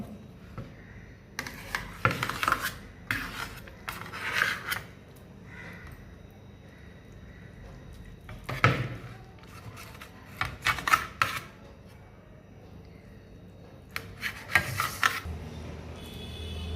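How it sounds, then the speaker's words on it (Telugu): Karachi halwa being cut into pieces with a knife, giving scattered soft rubbing and chopping contacts in small bursts, with quiet pauses between the cuts. "హల్వా ఇలా కట్ చేస్తానండి ముక్కలు"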